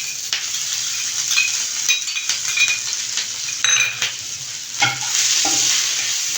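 Crushed ginger, green chilli and garlic sautéing in a pan for bhindi dry subzi, a close, steady sizzle broken by repeated scraping and stirring strokes of a spoon against the metal, with a few sharper clinks.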